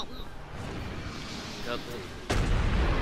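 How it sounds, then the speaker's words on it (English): A heavy, booming explosion from a Spirit Bomb attack in the Jump Force fighting game erupts suddenly near the end, loud and close, after a dense stretch of game noise and a voice talking. "Take my spirit bomb."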